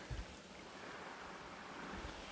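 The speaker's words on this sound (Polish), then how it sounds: "Środek rzeczki." Water flows through the middle of a small river in autumn, a steady faint rushing wash with a low wind-like rumble on the microphone, no voices.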